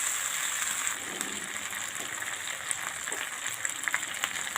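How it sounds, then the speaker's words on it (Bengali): Cashew, sesame and ginger-cumin paste sizzles and fries in a pan, a steady broadband hiss with small crackles and spatters, close and continuous, no voices. "ভালো করে কষিয়ে নেব।"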